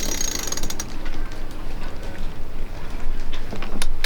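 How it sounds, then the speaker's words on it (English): A freshly serviced boat winch turning with no load, continuous mechanical clicking and ratcheting churning steadily as the gears turn, busy and close, with no voices. "This is the freshly serviced winch. Oh, look how easy it's going."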